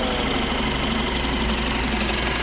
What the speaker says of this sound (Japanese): またエンジン音聞かせてもらえますか。